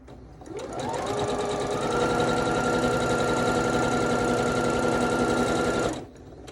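A sewing machine stitches a Yuletide quilt block in one loud, close run of about five seconds at a steady fast whirring speed. It spins up at the start and stops sharply at the end, and no one speaks.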